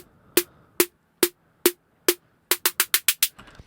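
Crisp, thin snare hits with the low end cut away, four evenly spaced strikes followed by a quick burst of six, then a brief noisy tail.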